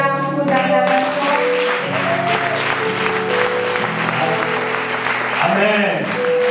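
Enthusiastic applause and cheering from a congregation welcoming the speaker Edgar at a prayer vigil in Nantes, sustained and loud beneath a voice and music-like held tones.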